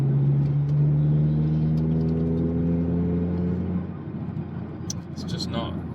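Honda Civic Type R exhaust cruising at low speed in fifth gear on a 40 road, a steady low droning rumble with a humming tone that fades partway through, heard from inside the car without talk.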